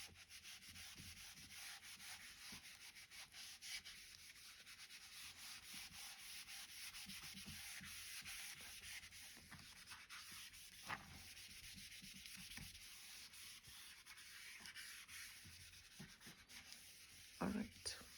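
A board eraser rubs out writing on a surveying lecture board, giving a soft, steady scrubbing that runs almost the whole time at low level, with a few louder knocks near the end.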